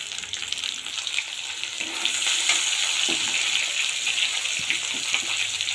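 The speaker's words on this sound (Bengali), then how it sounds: "পেঁয়াজ হালকা ভাজা হয়ে গেছে বন্ধুরা, এখন দেব যে টমেটো কুচি" Chopped tomato drops into onions already frying in hot oil, a loud, dense sizzle that swells after a couple of seconds and holds steady, with faint stirring knocks beneath it and no voices.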